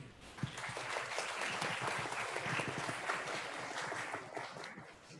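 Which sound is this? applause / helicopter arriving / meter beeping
applause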